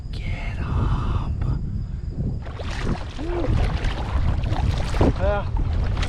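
Gusty wind buffets the microphone while a Tarpon kayak is paddled into a stiff breeze on open water, with rushing noise and faint water splashes throughout.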